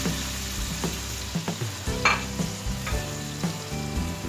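Browned onions with garlic, ginger, spices and tomato fry in a pan for Lahori chickpea curry, with a steady sizzle broken by repeated spatula scrapes and knocks at an uneven rhythm, close and clear.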